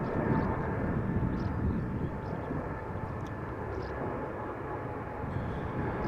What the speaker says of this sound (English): this is Emirates flight 146 going back to Dubai. It is a 777-300ER.